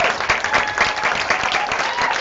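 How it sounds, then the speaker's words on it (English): An audience at a Kathak dance performance gives a loud, sustained round of close, crisp clapping after a question-and-answer session, with no pause through the clip. "Another round of applause"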